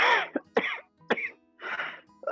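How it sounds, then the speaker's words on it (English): Someone on an online webinar coughs and clears their throat several times, harsh close bursts separated by short pauses, with no speech. "everyone is coughing today"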